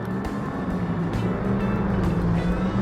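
Loud engines rumble and roar as several cars drive past close by in the video game My Summer Car, a continuous wash of motor noise with no talking.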